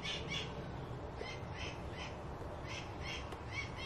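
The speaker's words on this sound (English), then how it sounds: "The bird's laughing at me." A bird squawks in a steady run of harsh, evenly spaced calls over a constant background hiss, with no talking.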